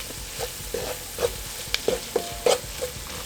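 A bacon mixture for old-fashioned fried cabbage is stirred in a frying pan, with a steady sizzle under a series of sharp spoon scrapes and taps at an uneven pace, close and fairly loud, with no talking.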